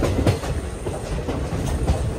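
DEMU passenger train running between Nandyal and Kurnool City, its wheels giving a steady rumble with faint clickety-clack from the carriages, heard continuously from inside the coach with no talking.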